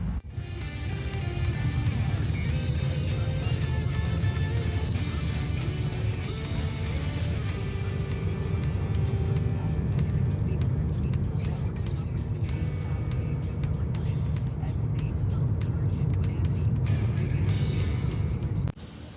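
A Mazda RX8 project car under revitalization drives a short distance, its engine droning steadily and loudly with slight swells in pitch, and occasional voices underneath.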